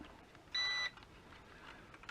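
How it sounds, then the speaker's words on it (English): ZD102S GPS quadcopter giving a single short, high-pitched electronic calibration beep while being rotated, faint in an otherwise quiet setting. "you should hear a beep"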